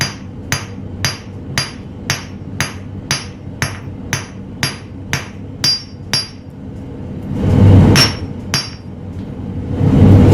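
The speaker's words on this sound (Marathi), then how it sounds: "हा असा तुकडा कट करायचा आणि तो थोडासा आपल्याला ठोकून घ्यावा लागणार आहे" A small cut piece of gold is hammered at a gold refinery, about a dozen sharp, evenly spaced metallic strikes ringing close and loud, followed by a few seconds of louder, broader clattering and rustling.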